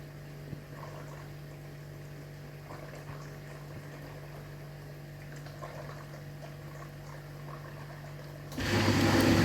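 A Bosch SGS5302 dishwasher hums steadily as its main motor runs after filling, a low continuous drone with faint water swishing, then a sudden louder rush of water surging near the end.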